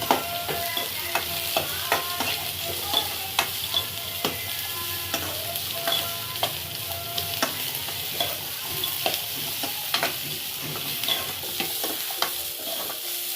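Carrots stir-fry in a pan for a restaurant-style paneer roll. A steady, close sizzle runs under a regular pattern of spatula scrapes and taps repeating throughout.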